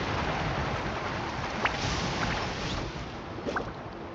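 Steady rushing water and spray as a surfboard glides across the surface in the video game Genshin Impact, continuous and fairly close, with a few faint splashes and no talking.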